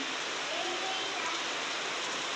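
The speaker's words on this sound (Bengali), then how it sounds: "কালকের মতো আবার বৃষ্টি শুরু হয়ে গেছে" Rain falls steadily as a faint, even hiss of broadband noise with no distinct drops, continuous throughout.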